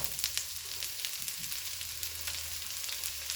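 Onions sizzling in a hot pan over medium-high heat for fried rice, a steady close hiss of frying with faint soft stirring touches and no voices.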